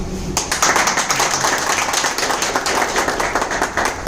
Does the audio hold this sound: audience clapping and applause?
yes